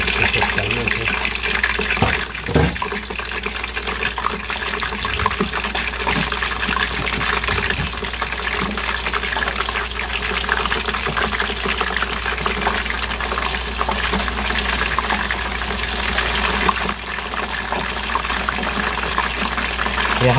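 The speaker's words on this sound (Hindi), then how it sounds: "तो अब हम अपना चिकन डालते हैं ताकि ये अच्छे से फ्राई हो जाए।" Chicken pieces for Lahori chargha fry in hot oil in a pan over a medium flame, giving a continuous loud sizzle and bubbling with occasional crackles throughout.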